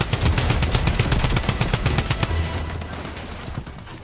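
Drum gun firing in Fortnite, a long rapid burst of loud automatic gunfire with dense, evenly spaced shots that thins out toward the end.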